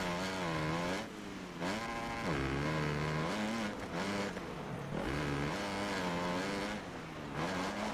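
A motocross bike engine in MXGP 2021 revs and whines, rising and falling as the throttle opens and closes through corners, with several sharp drops and climbs in pitch, loud and close.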